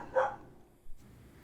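A dog gives a single short bark outdoors, moderately distant, followed by a faint thud in an otherwise quiet scene.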